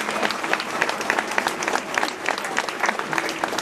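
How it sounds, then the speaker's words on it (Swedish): A large crowd applauds steadily at an outdoor red-green political rally in Växjö, with dense, continuous clapping that stays loud and even throughout, with scattered cheers within it. "Tack för alla varma applåder."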